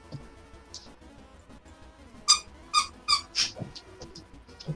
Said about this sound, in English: Excuse the squeaky toy in the background.